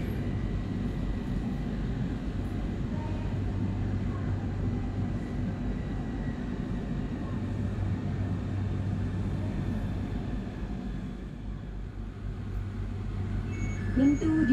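Whoosh high-speed train pulling into Cimahi station, a steady low rumble and hum of the moving train with faint creaks and rising noise toward the end as it stops.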